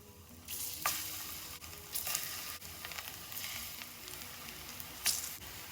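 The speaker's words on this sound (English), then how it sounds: "hear that sizzle? That's what you want." Plantains sizzle steadily in hot oil, a close, continuous crackling fry with occasional louder pops and spatters.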